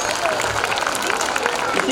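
A school prize-distribution audience claps loudly and steadily for about two seconds, a dense wash of many hands close by with no break.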